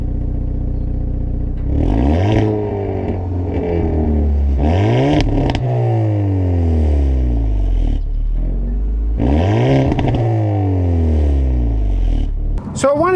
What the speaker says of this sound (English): So I wanted to demonstrate the rev.